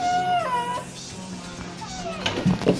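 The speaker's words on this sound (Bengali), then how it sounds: "কোন বিড়াল এসছে রে আমাদের বাড়িতে?" A cat meowing indoors at home, a few rising and falling mews close by, followed by shorter, rougher calls near the end amid household noise.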